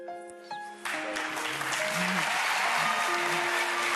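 A studio audience breaks into applause at a Turkish couples' game show final, the clapping swelling after the first second into a steady, dense wash that holds to the end, with faint voices and music tones beneath.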